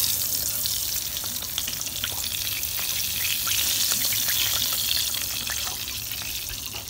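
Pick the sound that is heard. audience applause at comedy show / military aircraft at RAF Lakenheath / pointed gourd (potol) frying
pointed gourd (potol) frying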